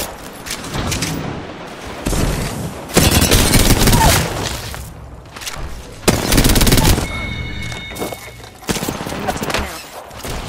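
Gunfire in a video game comes in several loud bursts of rapid shots, separated by short quieter gaps, close and dominant.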